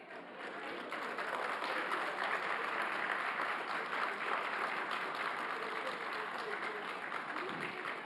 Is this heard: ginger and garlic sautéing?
no